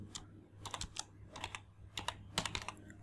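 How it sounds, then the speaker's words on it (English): Fingers type on a computer keyboard in short bursts of crisp, close clicks separated by brief pauses over a faint steady hum. "Type total revenue."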